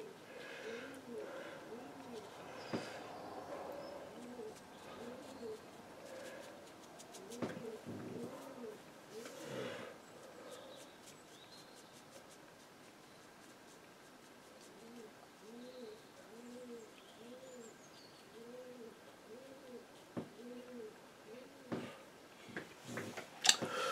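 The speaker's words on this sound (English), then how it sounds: "pigeons." Pigeons coo steadily in soft repeated rounds, moderately near, with scattered small ticks and taps around them and some quiet indoor movement.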